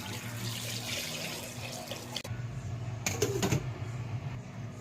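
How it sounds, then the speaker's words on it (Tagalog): Water runs and splashes steadily into a cooking pot for a few seconds, with a brief clatter partway through and some light handling noise. "Lagyan natin ng tubig."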